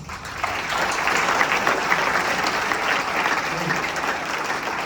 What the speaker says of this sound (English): Applaud for yourself.